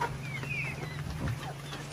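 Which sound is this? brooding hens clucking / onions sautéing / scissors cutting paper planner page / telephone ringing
brooding hens clucking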